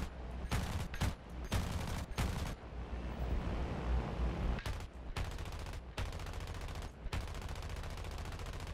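Aircraft guns fire in bursts during a World War II bomber interception in War Thunder, loud rapid volleys separated by brief pauses over a continuous engine drone.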